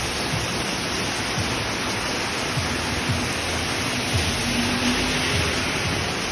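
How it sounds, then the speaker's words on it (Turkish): Heavy rain pours down outside a cafe in Bali, a dense, steady hiss of water drumming on surfaces that fills the whole scene without letting up, with no talking over it. "Ama dışarıdaki yağmur inanılmaz."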